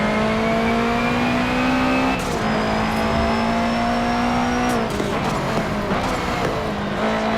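A race car in the Forza Motorsport 7 video game accelerates out of a corner, its engine note climbing steadily in pitch through rapid gear shifts, loud and close throughout.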